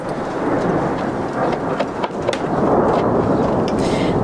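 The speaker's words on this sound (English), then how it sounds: "Thunder." Thunder rolling over steady rain at an abandoned farm in Portugal, a loud continuous rumble under dense rain hiss, with no talking.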